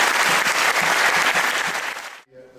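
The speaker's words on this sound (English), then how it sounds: "Let's hear it for Roald Dahl." Dense audience applause at an award ceremony for funny children's writing, a loud sustained burst of clapping from a crowd that cuts off abruptly near the end, followed by a brief faint murmur.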